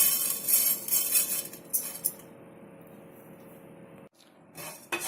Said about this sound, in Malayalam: ഇതിലേക്ക് 1 സ്പൂൺ പെരിഞ്ജീരകം നമുക്ക് ഇട്ട് കൊടുക്കാം